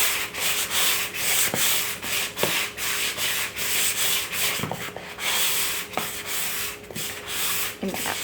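Sandpaper rubs steadily near the floor before painting, with close, continuous rasping broken by short rhythmic pauses between strokes.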